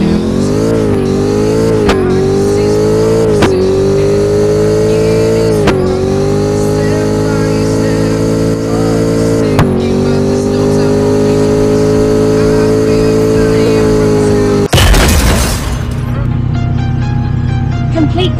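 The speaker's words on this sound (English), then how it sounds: "Your car has speed bomb. Don't drive slow." Engine of a race car in Forza Horizon 5, loud and sustained, climbing through revs with several sharp gear-shift breaks, then a burst of noisy roaring near the end.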